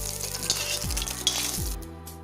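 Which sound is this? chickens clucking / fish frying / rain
fish frying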